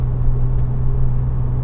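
Mid-mounted engine of a Porsche Cayman 987 on a race track, heard from the passenger seat as a loud, steady low droning rumble with no talking.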